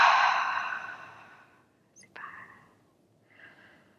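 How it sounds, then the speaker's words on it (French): A deep, breathy inhalation during a French yoga session, loudest at first and fading over about a second and a half, followed by two softer breaths; no talking. "Grande inspiration."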